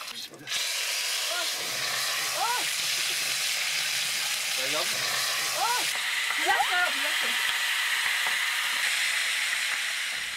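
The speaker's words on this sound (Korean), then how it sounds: "지글거리는 소리에 귀가 번쩍 뜨이는 생선 조리법" Fresh-caught fish, lightly salted, sizzles steadily as it fries over an open fire during a Turkish local food outing, a constant loud hiss with voices calling out over it.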